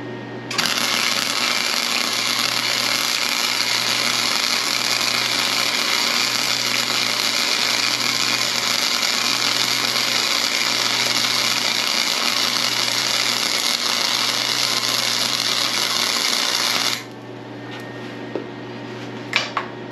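Flux core wire welding with the wire feed speed lowered, a loud, steady, close crackling buzz that runs for about seventeen seconds and then stops, followed by faint quiet shop sounds.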